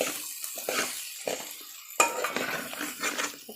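A spoon stirs masala powder into an eggplant and chana dal curry in a metal pan, giving soft scraping strokes with light clinks and one sharper knock, close and fairly quiet, with no talking.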